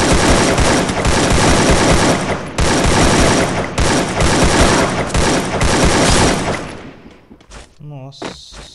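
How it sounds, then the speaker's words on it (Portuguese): Rapid, dense AK-47 rifle fire crackles continuously for several seconds, loud and close, then breaks off into scattered quieter noises. "Se preocupe não, Zé, que não tá ruim no tiro não"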